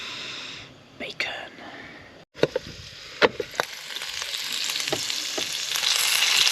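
Bacon sizzles in a pan while camping in a Ford Transit Connect micro camper. A few sharp crackles and clatters come first, then the hiss builds steadily louder, with soft whispered speech at times.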